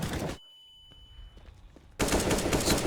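Dense, loud automatic gunfire in a Counter-Strike match on Overpass, with a burst at the start, a brief quiet gap with faint footsteps and small clicks, then another sustained volley.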